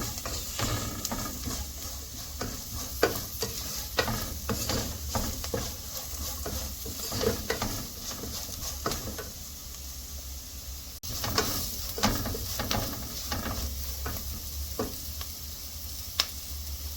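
Masala with freshly added asafoetida is stirred as it fries for a white bitter gourd pickle, giving a soft steady sizzle with irregular scraping strokes of a spoon in the pan, close up and without talking.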